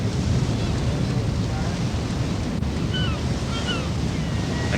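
Constant rush of wind and churning sea around a ship crossing the turbulent, current-swept stretch of water to Lundy, a dense, steady roar with faint distant gull calls above it.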